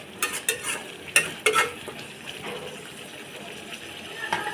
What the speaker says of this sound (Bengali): পানিটা দিয়ে আরও ভালো করে আমি কষিয়ে নিব